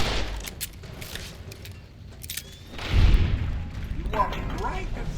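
Gunfire in the video game Fallout: New Vegas gives sharp cracks and a heavier boom near the middle, over a low rumble, with muffled voice-like sound in the background.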